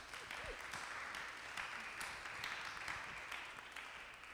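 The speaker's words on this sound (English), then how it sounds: "if y'all want to give him a round of applause first" Audience applause fills the room at an art event celebrating a painter, a steady wash of many hands clapping at moderate loudness with no talk over it.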